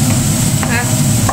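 Egg fried rice sizzles loudly in a hot pan at close range, a steady frying hiss broken by a few scraping stirs of the spatula.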